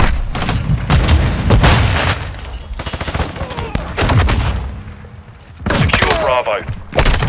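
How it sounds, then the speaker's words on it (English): Gunfire in Call of Duty: Modern Warfare 2 multiplayer, loud bursts of shots and booms mixed with game voice callouts, dense and continuous with brief lulls. "I'm taking enemy fire."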